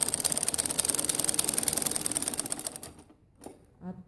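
A sewing machine stitches a samosa salwar seam in a rapid, steady mechanical run for nearly three seconds, then stops, with a few faint handling clicks and a soft thump afterward.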